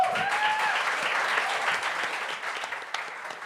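Audience applause at a comedy show, a steady wash of clapping from a crowd that holds at an even level for several seconds, with a few whoops at the start before the sound gradually thins.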